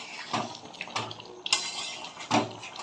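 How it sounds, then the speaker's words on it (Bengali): Chicken maharani is mixed in a pan on a gas stove, giving a few close, scattered scraping and clattering knocks of a utensil against the pan over a low background, with no talking. "গ্যাসের ফ্লেমটা একটু জোরে রাখছি, একটু ভালো করে এটা মিশিয়ে দিই।"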